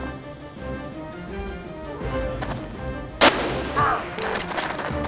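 Gunfire in the tactical strategy game Jagged Alliance 2 (1.13 mod): a loud, sharp shot bursts out amid a dense, steady game soundscape, followed by a shorter second report, with no talk.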